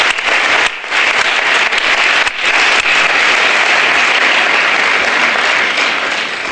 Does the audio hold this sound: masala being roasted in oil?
no